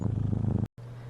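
A cat purrs up close in a loud, rhythmic, vibrating rumble that breaks off for a split second and then resumes more smoothly.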